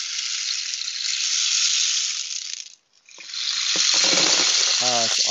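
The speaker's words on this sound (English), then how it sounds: "So the first thing I did was reach for one of my favorite rain sticks." Guatemalan rain stick turned over, giving a steady loud hiss of pouring pellets that fades to near silence midway, then surges back as it is flipped again, with faint taps and a brief voice-like tone near the end.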